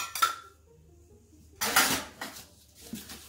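Lemon zest and lemon stirred in a pot, a couple of short bursts of metal utensil scraping and clinking against the pot with quiet gaps between, no talk.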